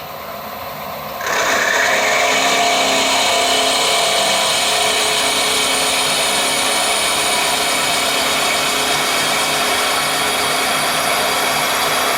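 A machine drill motor starts up and runs at a constant high whine, loud and unbroken, as a 14 mm drill bores through metal; no speech.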